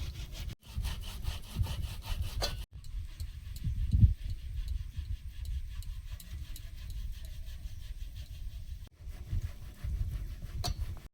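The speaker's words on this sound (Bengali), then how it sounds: "একটা আলু সেদ্ধ বড় সাইজের করনে কুড়ে ওতে দিয়ে দেবো সরু দিক দিয়ে কুচি" A large boiled potato rubbed across the fine side of a grater, making a continuous, close rasping scrape in quick repeated strokes with a couple of brief breaks.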